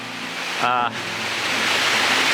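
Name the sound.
gentle waterfall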